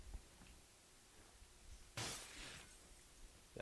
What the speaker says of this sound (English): That's my glass break.